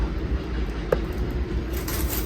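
A passing New York City train produces a low, steady rumble with faint rhythmic clacking, heard in the background with one brief knock partway through.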